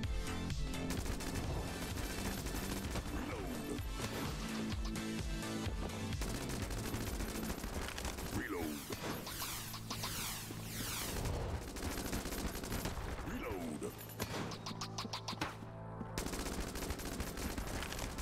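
A Vulcan Cannon fires in a video game, a dense, loud, continuous stream of rapid synthetic gunshots running throughout with shifting game effects layered over it, and no one talking.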